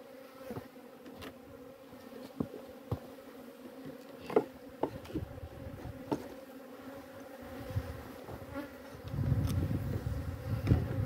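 Honey bees swarm and buzz around a hive after a colony was split into eight packages, a steady dense hum with scattered sharp ticks and bumps, growing fuller and louder near the end.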